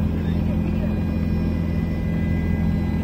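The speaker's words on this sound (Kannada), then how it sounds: "ಹೆಲಿಕಾಪ್ಟರ್ ಹೋಗ್ತಾ ಇದ್ದೀನಿ" A passenger helicopter taxi flies over Bengaluru, heard from inside the cabin as a loud, steady low rumble with a rhythmic rotor throb throughout.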